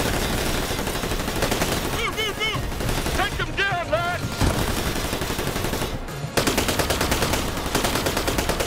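Rapid bursts of automatic gunfire and shots in the Tales from the Borderlands video game, loud and sustained across the clip, with voices shouting and talking over the firing.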